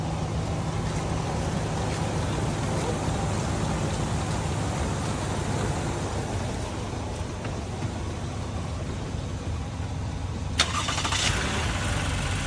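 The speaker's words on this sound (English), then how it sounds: "Go ahead and crank it." A car engine being cranked after a jump start catches and settles into a steady idle, a continuous low rumble running the whole time, with a brief sharper click near the end and no talking.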